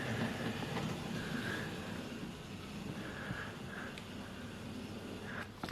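A Bachmann 4F model steam locomotive runs on a bed-top model railway, giving a continuous soft rolling rumble with occasional faint wheel squeals, fairly quiet and steady.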